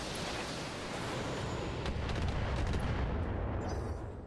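Mech weapons fire in the BattleTech video game, a sustained roaring barrage of heavy gunfire and explosive rumble, dense and continuous, with a few sharp cracks near the end.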